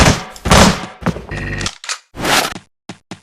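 A fully automatic auto pistol fires in the top-down shooter Teleglitch, a few close, punchy bursts and single shots separated by short silences.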